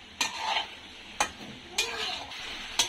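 Beef and raw jackfruit stir-fried in a pan: four distinct scraping strokes of a spatula over a soft, steady sizzle, close and fairly quiet.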